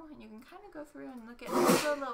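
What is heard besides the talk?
sneeze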